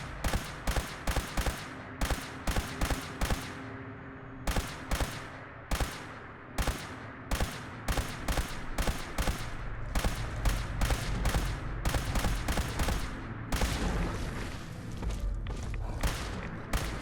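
Gunshots fired at a Deathclaw in Fallout 4: a long run of sharp, loud reports, first in spaced bursts, then faster and more continuous, with no talking.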